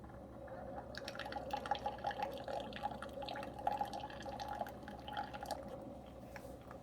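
A Keurig K-Slim coffee maker brews an 8-ounce K-Cup, with a steady stream of liquid dripping and trickling into a cup over a low machine hum, close and fairly quiet.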